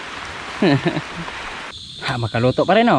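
Steady rain falls over a forest, a soft continuous hiss running beneath nearby talking.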